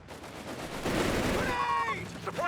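FT-42 machine guns fire in the video game Company of Heroes 3, a dense rattling burst of rapid shots that swells and then gives way to brief tonal game sounds.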